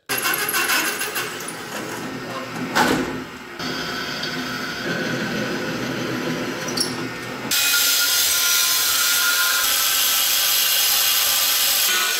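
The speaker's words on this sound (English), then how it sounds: "I get to drilling and cutting it out and see how well it works." A power tool drilling and cutting metal on an offroad mud mower build, shifting from a grinding drill tone to a harsher, brighter cutting whine partway through.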